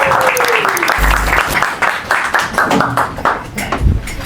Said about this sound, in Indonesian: beri tepuk tangan mereka untuk Oza Rangkuti.